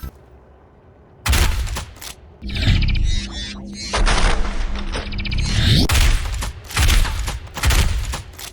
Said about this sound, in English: I can't ignore Doom Eternal's combat shotgun revamp